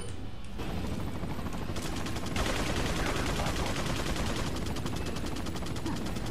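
Rapid gunfire in Resident Evil 4 HD, loud and dense bursts of automatic shots rattling nonstop with a few heavier blasts, under a brief voice.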